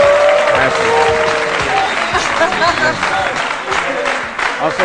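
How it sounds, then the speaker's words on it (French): A studio audience on an Ivorian midday TV show claps loudly and steadily in a sustained wave of applause, with a presenter's voice talking over it. "On applaudit très fort pour lui dire au revoir."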